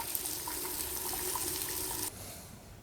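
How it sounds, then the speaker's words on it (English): Water rushes steadily from the trigger sprayer of an Active VE2/56 portable pressure washer as air is purged from the high-pressure hose, a continuous hiss and gush that cuts off abruptly near the end. "pull the trigger, and just let the water flow until we see that there's no more air bubbles coming out like that"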